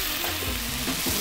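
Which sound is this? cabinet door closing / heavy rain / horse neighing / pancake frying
pancake frying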